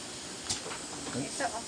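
Steam hisses in broad, breathy bursts from a ban sealer, a continuous rushing spray with brief louder puffs, while people talk nearby.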